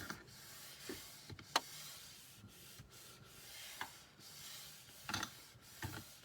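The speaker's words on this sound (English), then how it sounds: "I have my little whiteboard eraser." A small whiteboard eraser rubs and scrubs across a whiteboard in short, quiet, close strokes, with soft squeaks and taps between passes.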